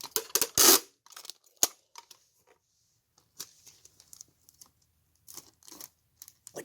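Adhesive tape being pulled and torn off to make extensions, heard as a cluster of quick, sharp ripping and crackling strips up close, followed by scattered fainter tears and rustles.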